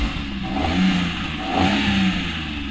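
A car engine runs and revs twice in a learner-driving session, a close mid-pitched hum swelling and easing with each rev, no talk over it.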